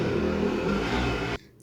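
A motorcycle passes outside with a loud, rough engine drone and rising revs, then cuts off abruptly near the end.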